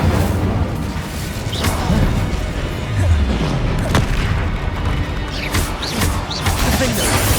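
Incendio fire spells are cast repeatedly in Hogwarts Legacy amid loud combat, a dense run of booming bursts and crackling impacts with no break in the chaos.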